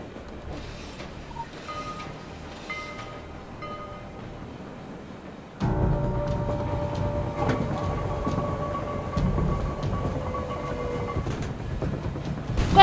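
A train rolls along in the video game Secret World Legends, first a lighter rattling stretch, then a louder, heavier rumble with clanking and metallic squeals that carries steadily on.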